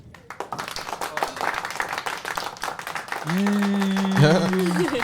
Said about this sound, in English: let's give a quick little hand clap and cheer for our guest here